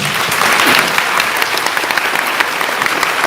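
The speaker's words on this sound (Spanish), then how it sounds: "un fuerte aplauso para el hermano" Strong applause from a church congregation for a brother who has just spoken, a dense, steady wash of many clapping hands lasting the whole stretch with no voices over it.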